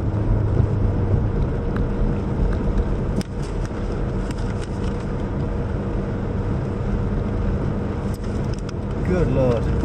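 Steady engine and road roar from a McLaren 720S driven on the Prestwold circuit, heard from inside the cabin, with a brief gear-change dip and voices talking over it.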